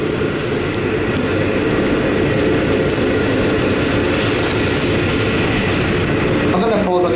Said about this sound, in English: But I'm about to pull in the Sunshine Railway Station